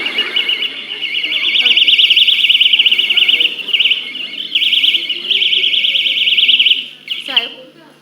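A loud, button-operated staff personal alarm on a hospital unit shrills continuously in a warbling high tone for about seven seconds, dipping briefly, with a short spoken word near the end.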